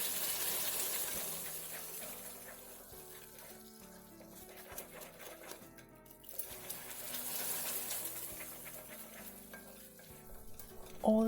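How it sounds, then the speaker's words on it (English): Steady frothy hiss and sizzle of hot caramel as water is added, with a stirring scrape, loud at first, easing in the middle, then swelling again near the end. "All that hiss will soon die down to a slow, calm boil."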